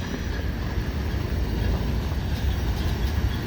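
A slow train led by CSX heritage unit 1850 in L&N colors eases toward the yard at Cumberland, Maryland, heard as an even, continuous low rumble and wash of rolling noise at a moderate distance, with no voices.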